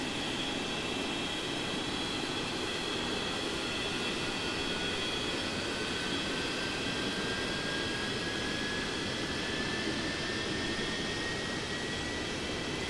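A Boeing 727 airliner engine starting up in a flight simulator game: continuous jet engine roar with a rising whine that climbs gradually, steady and loud throughout, with no talking.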